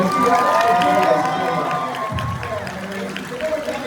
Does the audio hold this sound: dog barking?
no